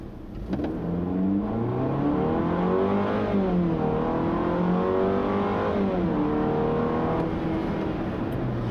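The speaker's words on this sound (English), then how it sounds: "when you guys are trying to accelerate in this car" A 2016 Fiat 500X Trekking accelerates hard, its engine note climbing through the gears in long rising sweeps with brief dips at each shift, loud and continuous from inside the cabin.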